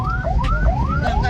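Ambulance carrying an elderly patient on a road in Central Java, its siren wailing close and loud in repeated rising sweeps, about four cycles in quick succession.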